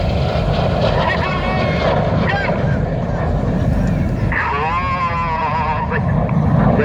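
Red Arrows jets flying a synchro roll at the Ayr Airshow, a continuous jet roar with sweeping, wavering engine tones that rise and fall as the aircraft pass and roll, loud and steady throughout.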